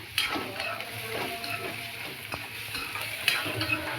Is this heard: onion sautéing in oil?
yes